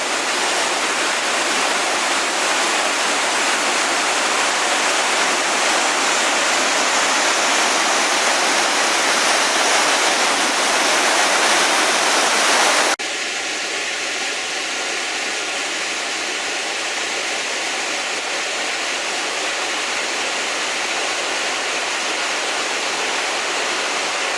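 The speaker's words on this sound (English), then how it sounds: "this is called the Falls of Shin, which is all quite impressive" The Falls of Shin in Scotland pour as a steady, loud broadband roar of rushing water, heard up close without a break; midway the sound shifts abruptly to a slightly softer, more distant-sounding rush that continues to the end.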